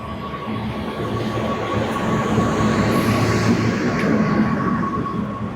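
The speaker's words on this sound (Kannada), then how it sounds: "ಟ್ರೈನ್ ಬಂತು ಮನೆ ಪಕ್ಕದಲ್ಲೇ ಟ್ರೈನು" A train rolls past right beside a house near Haridwar, a loud continuous rumble with a steady hum and a faint squeal, sustained and close for several seconds with no talk.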